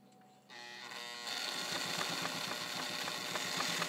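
A Toyota Morse Fotomatic IV sewing machine zigzag stitches garment-weight leather, starting as a soft whir, stepping up in speed, then settling into a loud, steady mechanical buzz with a rapid rhythmic chatter of the needle, close and continuous.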